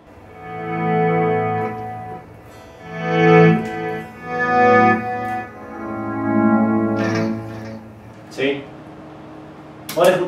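Electric guitar run through an Axe-Fx effects processor with a volume pedal, sustained chords swelling and fading in level, with effect-laden tone and a few sharp plucks near the end.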